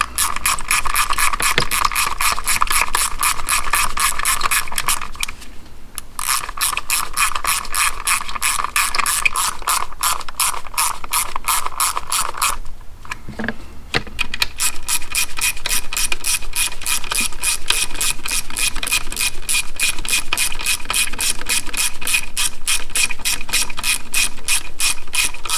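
Ratchet tightening spark plugs on a 2003 Honda Accord, a fast steady clicking of the pawl at close range, running in long bursts with two short pauses.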